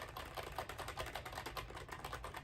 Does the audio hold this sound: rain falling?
no